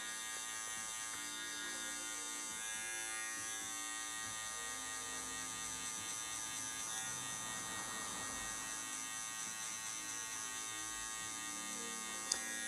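Electric hair clipper with its lever at the middle setting, cutting a mohawk fade, hums in a steady close buzz that runs unbroken, with no talking.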